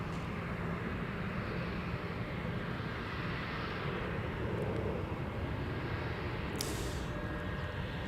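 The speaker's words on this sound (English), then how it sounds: "is that aircraft an A330 or A350? This is an A330-900 Neo." An Airbus A330-900 Neo airliner at Minneapolis–St. Paul airport, a steady distant jet engine roar with broadband rumble that holds throughout, faint and unbroken by talk.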